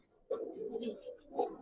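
A Giribaz pigeon gives a short, close, low cooing call, a soft throaty burr that swells and ends with a second brief coo.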